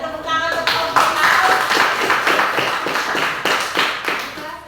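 Group applause in a classroom presentation, a burst of many hands clapping continuously and fairly loud for several seconds, with voices mixed in at the start.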